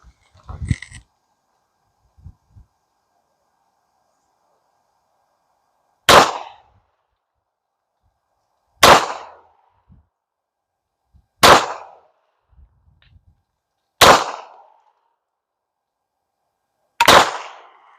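A Canik Rival pistol fires Hornady Critical Defense rounds: five sharp, loud shots spaced a few seconds apart on an outdoor range, each with a short ringing decay, after some faint handling noise at the start.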